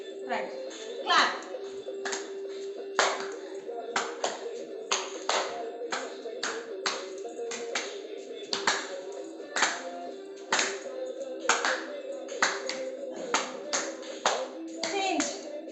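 Rhythmic hand clapping from a yoga class exercise, a steady series of sharp claps repeated throughout with a tonal hum and faint voices underneath.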